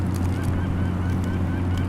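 Wild turkeys call from a flock struck up at the end of a hunting hike, faint honking bird calls over a steady low background drone.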